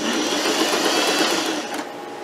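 Sewing machine stitching a gathering seam in skirt fabric runs as a loud, steady whir close by, easing off slightly near the end.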